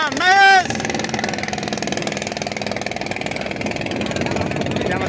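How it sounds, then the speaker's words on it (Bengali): A trawler boat's engine chugs past on a river, a loud, steady, pulsing mechanical drone that holds throughout, with a brief voice or tone at the very start. "আমাদের প্লাস দিয়ে আরেকটি ট্রলার চলে যাচ্ছে"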